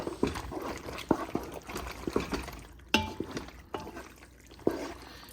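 Sauce being stirred in a dish, with wet, sloshing liquid sounds and a scattering of sharp spoon clicks at irregular intervals, close and moderately loud, without speech.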